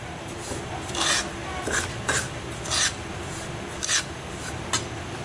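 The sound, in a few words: semolina being roasted and stirred in a kadhai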